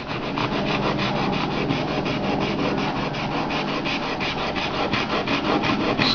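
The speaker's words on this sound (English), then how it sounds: "Now you sand this. We have to remove copper oxide, so you can use such a kind of brush" Steady rough scrubbing as a brush is worked over a copper-clad circuit board to strip copper oxide, a dense continuous rasping texture that stays loud and close for the whole stretch with no talk.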